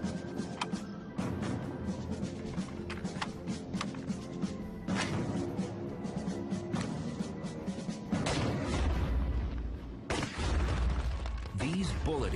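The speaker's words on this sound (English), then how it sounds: "These bullet impacts are comparable to the collisions in the asteroid belt." Gunfire sends bullets into stand-in artificial asteroid targets, a series of sharp cracks and impacts spaced across the span, mid-distance, with someone talking between shots.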